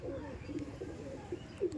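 Pigeons coo in low, soft repeated calls from a cage just before being released to fly together, the burbling steady and close.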